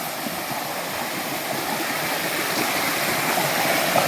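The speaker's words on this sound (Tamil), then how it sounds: "தண்ணி சத்தம் கேட்டுச்சின்னு சொல்லிட்டு இறங்கி வந்து பார்த்தா" Steady rushing of a flowing stream in Tamil Nadu, a continuous broadband wash of water that stays even and fairly loud throughout.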